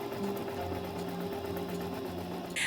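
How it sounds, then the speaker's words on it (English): A sewing machine stitches fabric corners with a steady, even mechanical hum and rapid needle chatter, running continuously at close range before a brief click at the end. "I sew corners."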